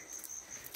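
Crickets in a forest give a faint, high, pulsing chirp in short bursts over soft background hiss.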